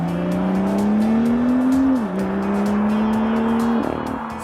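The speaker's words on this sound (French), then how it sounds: "On ne se lasse d'ailleurs pas de l'écouter travailler entre le sifflement de la turbocompression sous le capot" A 2016 BMW M2's 3-litre, 370 hp turbocharged engine pulls steadily, its tone rising as it works, then dipping briefly at a shift before climbing again, with turbo whistle and a metallic exhaust rasp close and loud throughout.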